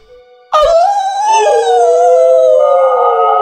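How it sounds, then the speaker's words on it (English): A wild dog howls in the Alluvium video game, one long loud wavering howl that starts suddenly and holds for about three seconds, close and alone with no talk. "The dogs stare at me as if eyeing their next meal."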